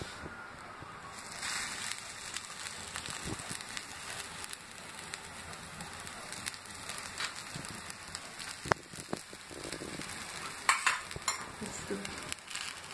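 A paneer sandwich sizzles in ghee on a tawa griddle, a steady close crackle and hiss with a few sharper pops, heard alone without talk.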